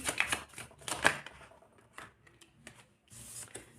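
Tarot cards being shuffled and drawn up close, in brisk papery riffles and slides with short pauses between bursts.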